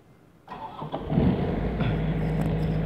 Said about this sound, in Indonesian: Genset menyala.